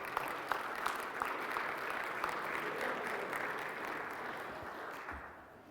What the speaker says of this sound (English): let's give a round of applause for our lovely volunteer